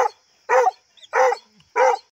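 A dog barks three times in an even rhythm, sharp and close, with short silent gaps between barks.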